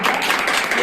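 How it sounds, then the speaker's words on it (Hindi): Audience applause welcoming someone at a political gathering, a steady dense wash of clapping throughout, fairly loud and continuous with no pauses. "तालियों से स्वागत करें"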